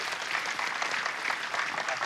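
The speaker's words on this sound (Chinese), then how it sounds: "掌声欢迎！" Steady, dense applause from a gathered crowd welcomes a man called up to draw a prize at a party, sustained and even throughout with no clear talk over it.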